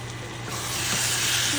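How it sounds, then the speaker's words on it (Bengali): Chicken being sautéed and browned in a pan for a home-cooked Bengali dish, giving a steady close-up sizzle and hiss that swells slightly toward the end, with no talking. "চিকেনটা দেওয়া হয়ে গেছে এখন চিকেন কষানো চলবে"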